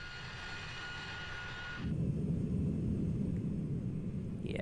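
Jet engines of a ToLiss A319 airliner in the X-Plane flight simulator, a steady airy whine that shifts at about two seconds into a louder, deeper broadband roar, with no voices.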